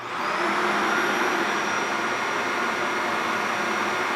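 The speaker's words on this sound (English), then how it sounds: "this is a very powerful vacuum" A powerful vacuum cleaner runs steadily and loudly from start to finish, a dense whooshing roar with a high motor whine on top, alone with no talking.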